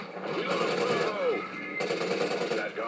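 A Maverick rifle in Call of Duty Ghosts fires in fast, rattling bursts during a Domination match, the rapid rhythmic shots running under a talking voice.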